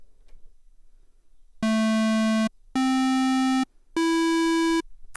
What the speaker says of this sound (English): and there's a square wave.